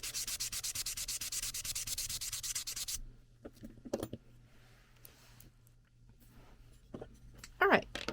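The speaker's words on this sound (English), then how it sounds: "So I'm using these sanding blocks that are for nails that I buy in bulk on Amazon" Steady, rapid rasping of a nail sanding block scrubbed back and forth on hard plastic of a doll for a few seconds, then quieter scraping and rubbing with some talk.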